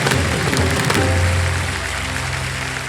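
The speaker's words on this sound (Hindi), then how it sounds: "जोरदार तालियां बजाएं" Studio audience on a televised quiz show clapping loudly, a dense, sustained wash of applause that fills the whole moment with steady intensity, tapering slightly toward the end.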